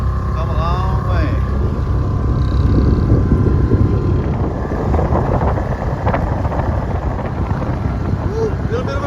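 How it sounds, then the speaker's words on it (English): Wind buffets the microphone over a steady engine-and-water rumble while a Bayfield 29 sailboat is towed across open water, a continuous loud roar with no talk. "looks like the wind is picking up a little bit"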